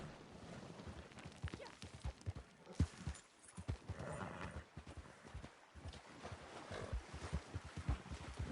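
Horse hooves clopping in a video game during a riding sequence near a small waterfall, with a steady run of irregular thuds over a wash of wind and water-like ambience, moderately loud with no talk.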